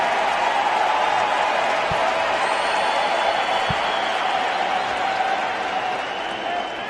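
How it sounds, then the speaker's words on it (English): A large tennis crowd at a 2017 US Open quarterfinal roars and applauds for Venus Williams in her match against Petra Kvitova, a loud, steady wash of cheering and clapping that holds throughout. "The crowd is certainly cheering for that."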